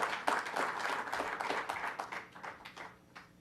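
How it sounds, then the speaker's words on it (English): An audience at a COVID-19 briefing applauds Dr. Mantosh Dewan: a burst of scattered clapping, moderately faint, that thins out and fades over a few seconds. "Let's give Dr. Mantosh Dewan another round of applause for what he has done here"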